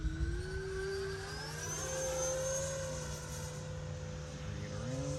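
E-flite Havoc Xe 80mm electric ducted-fan RC jet flying fast, a steady whine with a pitch that rises and falls as it passes, moderately distant and continuous.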